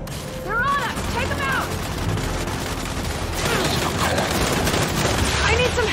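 Turret gunfire in Gears of War 5 chatters under game noise and a speaking voice, with sweeping mechanical whines and dense rapid shots rising toward the end.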